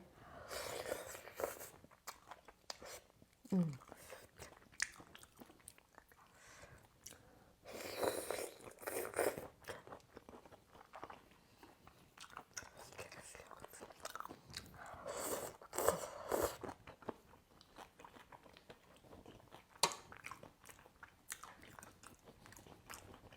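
Raw shrimp and papaya salad being eaten close up, with crunchy bites and steady wet chewing that repeat in bursts through the stretch, with no talking.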